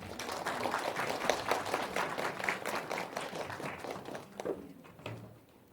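Dense, steady applause from an audience at an admissions strategy seminar in Ulsan, filling the room for about five seconds before thinning out and fading at the end.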